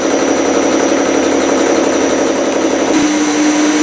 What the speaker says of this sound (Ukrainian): Китайський різець ріже на ура, хоч 12 на 12, маленький.